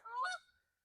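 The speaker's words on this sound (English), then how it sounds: "geese flying over" Geese honking as they fly over an outdoor backyard pool area, a short cluster of faint, distant honks that quickly fade away, with no talking.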